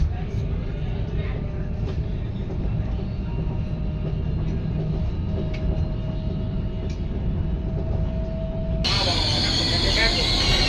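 A Dakar local commuter train runs with a steady, loud rolling rumble and faint wheel squeals. The rumble brightens and swells near the end, with a faint background murmur.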